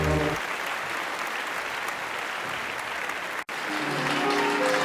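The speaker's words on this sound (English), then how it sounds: "Quick round of applause." Steady applause from a live audience at a hip-hop EP performance, dense and sustained for several seconds with a brief dropout near the end, then continuing as music resumes faintly underneath.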